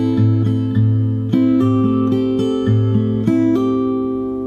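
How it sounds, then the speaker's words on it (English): Fingerstyle acoustic guitar plays the opening two bars of a song: a steady, bright picked pattern over a sustained low bass, with clear plucked notes shifting every beat, close and solo. "So I'll play the first 2 bars together."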